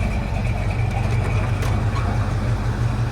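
A 1969 Plymouth Roadrunner, parked for 25 years and now running, idles with a deep, steady engine rumble close by, loud and continuous over its few seconds, with no talk.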